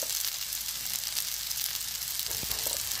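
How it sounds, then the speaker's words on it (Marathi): Coriander vadi made with pearl millet flour sizzle steadily as they fry on a griddle, a continuous close hiss with a few brief louder crackles near the end and no talking. "ह्या वड्या आपण तव्यावर परतून घेणार आहोत"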